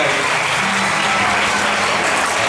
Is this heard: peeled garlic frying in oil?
no